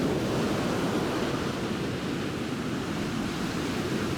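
Ocean waves washing in on a shoreline during a landscape photography outing, a constant loud wash of surf with wind noise over the microphone and no clear break between waves.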